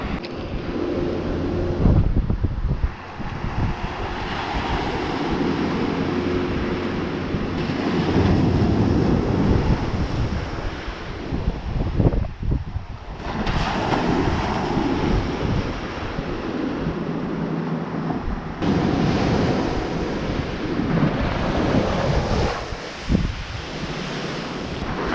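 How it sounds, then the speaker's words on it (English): Ocean surf rolling onto the shore at Flagler Beach, Florida, with loud continuous wash and repeated breaking swells, heavy wind rumble buffeting the microphone throughout, no voices. "Just beautiful ocean."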